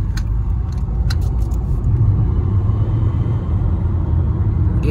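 Car engine rumbling steadily and loud up close inside the vehicle after being switched into sport mode, a deep continuous drone with a few faint clicks and jangles early on.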